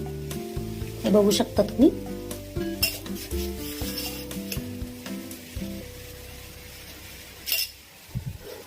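Mango sheera with sugar being stirred in a hot pan, a steady sizzle under repeated metal clinks and scrapes of the spoon against the pan, with a few spoken words early on.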